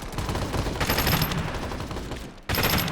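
Rapid automatic M4A1 rifle fire in a free-to-play shooter video game, dense continuous bursts filling the clip with a short pause near the end before firing resumes.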